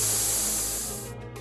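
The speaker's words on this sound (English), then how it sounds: "into a microscopic mist or aerosol by the MQL system" A minimum quantity lubrication system on a machining setup sprays cutting oil as a fine aerosol mist, giving a steady close hiss that fades slightly toward the end, with brief pulses of spray near the finish.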